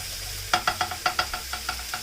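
Store-bought sausage browns in a hot pan with a steady sizzle, while about nine rhythmic scrapes of a stirring utensil sound up close, evenly spaced, with no talking.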